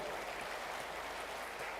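Faint, steady clapping comes from an audience at a company's seventh-anniversary celebration, a soft, even patter heard from a distance without any voices.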